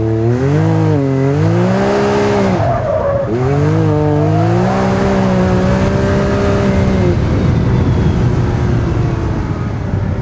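A Can-Am Maverick X3 side-by-side with a full bolt-on MBRP exhaust, driven on pavement, revs loudly and steadily with its engine note rising and falling through repeated throttle pulls and shifts, staying close and continuous.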